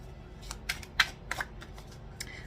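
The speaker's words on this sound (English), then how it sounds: "I'm gonna shuffle" Tarot cards riffle and snap in a few short bursts, with quiet pauses between the shuffles.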